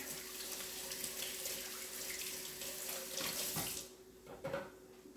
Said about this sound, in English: let me rinse one more time